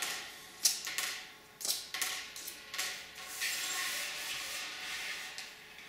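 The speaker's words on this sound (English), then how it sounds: "Okay, so I unscrew the servo. Let's remove all the screws." Small screws are turned out of a JR DS8611 servo case, giving a series of close, faint scratchy rubs and ticks that come in short repeated strokes, with no talking.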